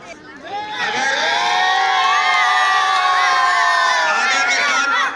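A dense crowd at an outdoor election rally roars and cheers to welcome a candidate onto the stage, with high shouting voices rising over a loud, sustained din that holds steady for several seconds.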